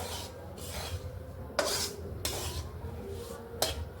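Semolina (suji) being stirred and fried in oil in a pan, soft gritty scraping strokes repeating in an uneven rhythm, close and fairly quiet, with a few sharper scrapes.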